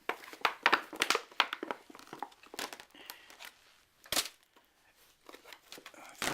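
A Disney Beauty and the Beast fashion doll is unboxed, with crinkling plastic and tearing cardboard packaging in bursts of sharp rustles up close, and a person talking faintly in between.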